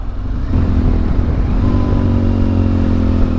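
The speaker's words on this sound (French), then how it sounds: "Et je suis content d'être en moto." A motorcycle rides along a lakeside road between Griante and Menaggio on the Italian lakes, its engine a loud, steady close drone with a slight rise in pitch and continuous wind rumble, no voices.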